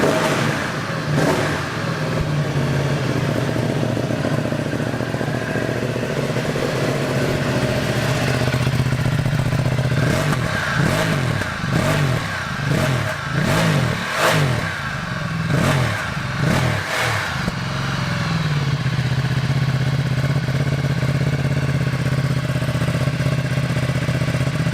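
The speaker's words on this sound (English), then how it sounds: "Look at that growl." A Ducati Multistrada 1260S motorcycle engine idles with a deep, steady rumble, then blips through a run of sharp revs in quick succession before settling back to idle, close and loud.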